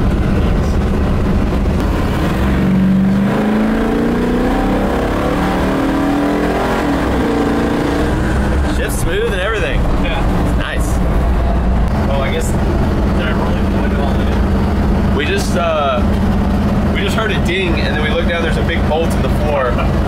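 A torquey Ford 427 small-block V8 in a Bronco revs with a rising, throaty pitch, then settles into a steady, loud rumble while people talk over it.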